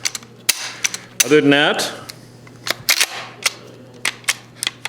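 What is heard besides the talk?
rifle bolt being worked back and forth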